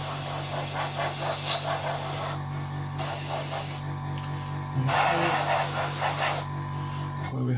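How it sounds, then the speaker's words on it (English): An aerosol can sprays paint onto the underside of model airplane engines on a Revell 1/72 Transall kit, in three close hissing bursts of a couple of seconds each, separated by short pauses. "Just spray the bottom of these engines all in."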